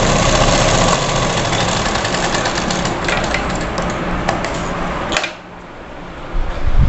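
A sewing machine runs in a steady, rapid mechanical whir while stitching a seam on fabric for a girl's frock, pausing briefly near the end before starting up again.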